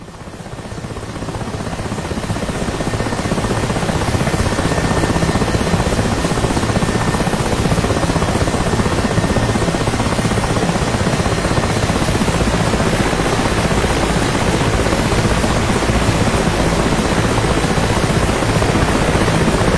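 A helicopter takes off from a runway and accelerates, its rotor and turbine roaring loud and steady throughout, building slightly in the first seconds and then holding a dense, continuous drone.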